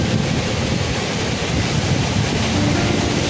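Sea waves roll in at high tide on Uran beach during the rainy season, making a constant dense roar with wind buffeting the microphone and no voices.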